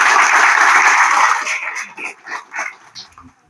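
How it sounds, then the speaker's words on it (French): Applause for the winning school at an environmental quiz competition in Haiti, a dense burst of clapping that fades after about a second and a half into scattered claps, with a few yips or barks that could be a dog. "Applaudissements."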